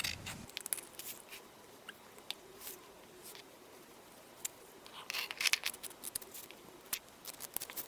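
Scissors cutting fabric from a thrifted cottagecore dress, a series of close crisp snips and soft fabric rustles at an irregular pace, fairly quiet.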